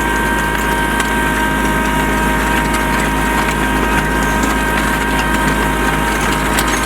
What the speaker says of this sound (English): Some hard red clay and that box blade chewing it up.